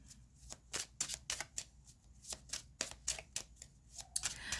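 Tarot cards being shuffled by hand, a quiet close series of crisp riffling snaps and soft card slides in an irregular rhythm.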